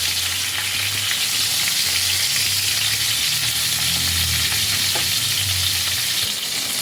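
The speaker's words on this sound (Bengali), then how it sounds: "এরকমভাবে ঘুরিয়ে ঘুরিয়ে পটলের চারিপাশ ভেজে নিতে হবে।" Pointed gourds (potol) being turned in hot oil produce a continuous, dense sizzle, close and loud throughout, with occasional stirring scrapes and no talking.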